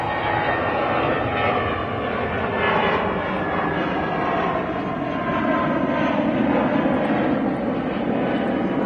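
An airliner passes low over the control tower at Manchester Airport, a loud, steady broadband engine roar that holds throughout with no talk.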